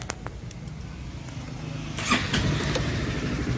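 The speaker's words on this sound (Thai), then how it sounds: "สตาร์ทรถ" A Honda Forza 300 scooter's engine cranks and catches about halfway through, after a quiet stretch with a few small clicks, then settles into a close, steady idle.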